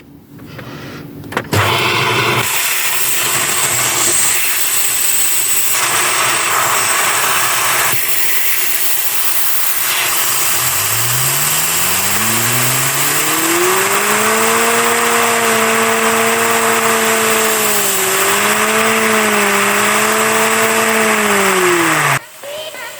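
A homemade Lego turbine vacuum engine fitted with a small wheel starts with a sharp clatter, then whirs loudly and steadily, its pitch rising smoothly as it spins up and wavering slightly while holding speed.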